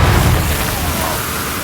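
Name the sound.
explosion of bombs blasting open a mine section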